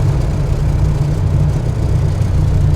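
A 1967 Plymouth GTX with its original Hemi V8 idles loud and close, a steady deep rumble throbbing without a break.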